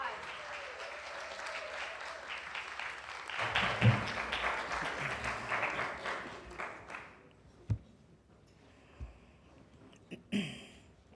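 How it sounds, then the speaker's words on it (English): Church congregation applauds, a broad wash of clapping that swells and then thins into scattered claps and knocks, with some voices underneath. "Let's give them a round of applause."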